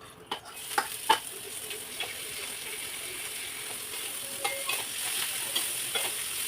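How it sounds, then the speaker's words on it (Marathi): Cumin seeds fry in hot oil in a home kitchen while cooking a quick tomato chutney, a steady soft sizzle with light scraping stirs and occasional clicks of a spoon against the pan. "तेल पण गरम आहे गरम जिरमोरी टाकली"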